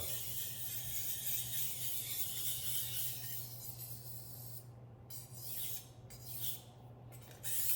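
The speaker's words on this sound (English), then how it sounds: "And then you can kind of hone it with a little circular motion along the stone." A kitchen knife is honed on a sharpening stone with small circular strokes, making a continuous gritty rasping scrape that stays close and fairly quiet, then breaks into shorter rubbing passes near the end, with no talking.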